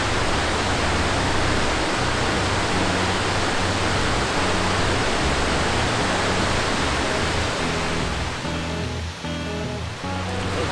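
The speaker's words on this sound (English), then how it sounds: "What's interesting about this waterfall is that all this water is coming out, this big volume of it" Great Falls, a large waterfall pouring a big volume of water over rocks, fills the clip with a loud, steady, continuous roar and no speech.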